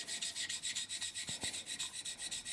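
A hand file rasps across a burr on a clutch part of a 1972 Harley-Davidson Sportster XL Ironhead, in quiet, rhythmic back-and-forth strokes, close and soft, with no talk.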